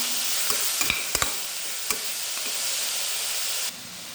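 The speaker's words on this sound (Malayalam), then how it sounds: "കുറച്ച് കറിവേപ്പില രണ്ട് രണ്ട് കറിവേപ്പില ചേർക്കുന്നു" Curry leaves hit hot oil for a vegetable biryani, giving a steady, close sizzle with a few sharp clicks of a spoon stirring the pan, and no voices.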